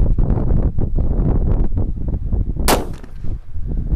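A sharp, loud bang bursts out partway through as a firecracker explodes inside a used roman candle tube, over continuous rumbling wind buffeting the microphone.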